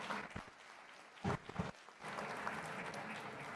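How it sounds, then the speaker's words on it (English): An audience at a startup pitch competition applauds the five companies, a dense steady clapping from a roomful of people that runs on through most of the stretch after a few scattered early claps. "Can we just give a round of applause for all 5 companies?"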